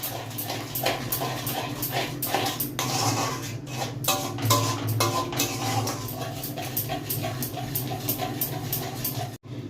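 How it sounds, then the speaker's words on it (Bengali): Green mango chutney being stirred with sugar in a pan, a utensil clinking and scraping against the metal in a steady, repeated rhythm close by, with a dog whimpering and barking faintly in the background. "এবার চিনিটাকে খুব ভালো করে এর মধ্যে মিশিয়ে নেব, যাতে চিনিটা এখানে গলে যায়।"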